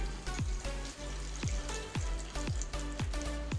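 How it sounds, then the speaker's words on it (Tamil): Sesame oil heats in a pan as tempering begins for an anchovy fish curry, giving a steady close sizzle and frying crackle with repeated sharp pops and spits throughout. "எண்ணெய் ஊற்றிட்டேன்."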